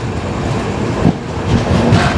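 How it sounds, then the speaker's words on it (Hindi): The Island Express pulls out of Palakkad railway station in Kerala with a steady, dense rumble of wheels and carriage noise, heard from on board with no talk. "फिलहाल हमारा डिपार्चर हो चुका है एग्जैक्टली 9:20 पे पलक्कड़ रेलवे स्टेशन से"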